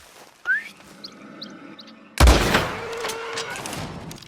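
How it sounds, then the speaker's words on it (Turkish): A rising whistle sounds, then a sniper rifle shot cracks loudly with a long echoing tail during an animal hunt in Red Dead Redemption 2, with faint chirps in the quiet stretch before. "Yani sniper ile hedef alıp ıslık çalacağız."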